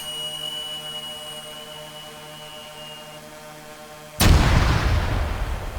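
A demining charge in ArmA 3 goes off with one sudden, loud blast that rolls out into a long, fading rumble after several seconds of steady low hum.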